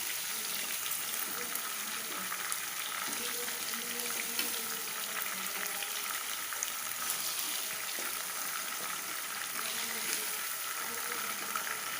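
Chicken fries in a pan of hot ghee for a chicken ghee roast, a steady, dense sizzle that runs unbroken and fairly loud throughout, with no voices.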